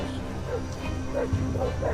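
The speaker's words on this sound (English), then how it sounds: "Rugged rocks could not stop a pack of hunting dogs from hunting wild boars." Pack of hunting dogs chasing wild boars over rugged rocky ground, giving short excited yips and barks at mid distance over steady background noise.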